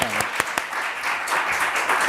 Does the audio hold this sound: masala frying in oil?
no